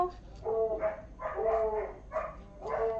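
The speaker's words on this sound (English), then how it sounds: "you're going to hear Coco's daddy bark because she's happy her daddy's home" A pet dog barks excitedly as its owner arrives home, giving several close, loud bark bursts in an uneven rhythm with short gaps between them.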